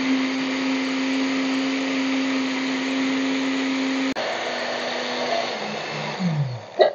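An electric blender grinds a sandwich spread with a cup of oil added, a steady high motor whine that shifts pitch partway through and churns more roughly toward the end.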